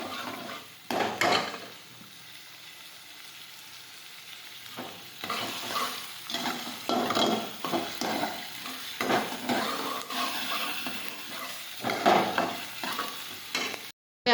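Ginger sautéing in a pan for urad dal, a soft sizzle under repeated scraping stirs from a spoon, close and fairly quiet, with irregular bursts of stirring and no talking.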